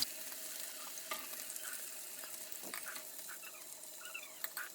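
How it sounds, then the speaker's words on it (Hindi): Kebab frying on a tawa griddle for an Eid meal, a faint, steady sizzle with light crackles and a few small pops, quiet and close, with no voices. "तो जी ये बस अब इसको हम फ्राई कर लेंगे तवे के ऊपर।"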